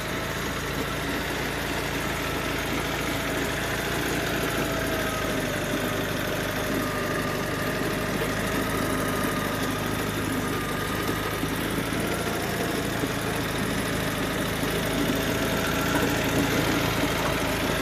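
A homemade small tractor engine runs steadily while digging potatoes in a field, its continuous mid-pitched drone loud and close throughout, with no speech.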